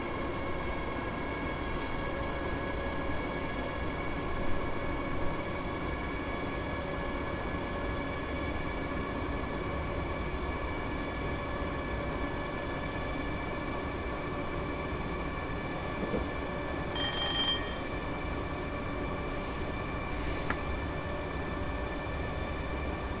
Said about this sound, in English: Bye-bye, train. Into the tunnel you go.